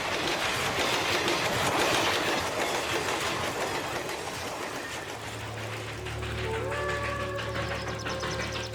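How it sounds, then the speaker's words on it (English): A fast express train in India rumbles steadily along the rails with rhythmic clatter, loud and close, then a low steady engine drone and a faint high tone settle in. "the super-fast express trains command the rails"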